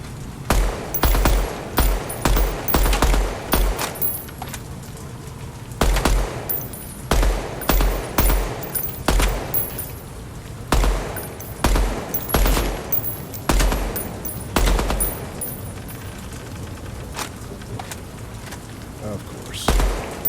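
Rapid gunfire bursts from the video game Deadrop, loud repeated volleys of shots in fast clusters with short pauses between them, filling the whole stretch.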